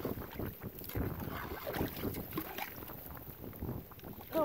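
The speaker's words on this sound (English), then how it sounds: "The wind started to pick up." Wind gusting outdoors in a Texas freeze, a low, rumbling buffet across the microphone that rises and falls irregularly with no voices.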